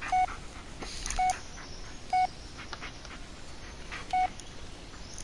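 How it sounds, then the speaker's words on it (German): Touch-tone dialing beeps from a phone inside the horror video game Blair Witch, four short evenly pitched tones spaced about a second apart over a low ambient hum. "Kann ich jetzt diesen verdammten Pizzaboten anrufen?"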